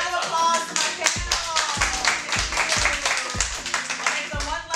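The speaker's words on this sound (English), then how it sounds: "Round of applause to my panel." A room full of people clap for a discussion panel at a filmed talk event, a steady patter of hands with light taps and voices mixed in, close and fairly loud.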